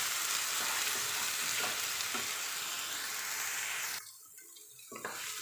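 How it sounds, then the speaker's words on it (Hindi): Chopped onion fries in a pan with a loud, steady sizzle broken by a few scraping stirs, then the hiss drops off abruptly near the end. "अब डालेंगे इसमें प्याज चॉप किया हुआ, अब इसको अच्छी तरह हिलाएं और भूनने तक पकाएं।"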